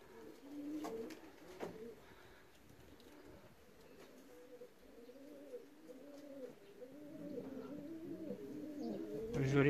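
A racing pigeon back home after a training flight coos softly in a loft, low repeated throaty calls rolling on over faint background noise, with a louder thump near the end.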